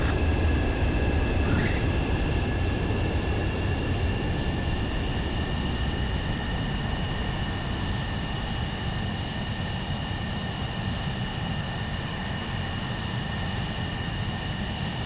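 A fighter jet lands in Ace Combat 7 with a steady, loud engine roar and whine, holding a constant tone throughout with no talk.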